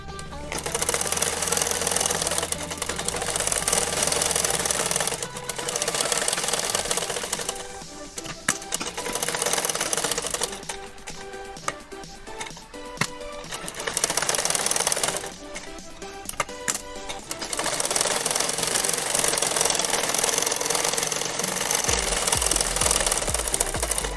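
A sewing machine stitches the lining and trim strip onto a small deity's dhoti, running in loud, rapid bursts with brief pauses and a change of pace midway.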